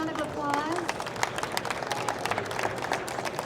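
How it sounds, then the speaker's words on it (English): Audience applause for presenter Duncan Kennedy at a tech conference talk, a steady wash of many hands clapping with crowd murmur mixed in, moderately loud and continuous. "let's give Duncan a big round of applause"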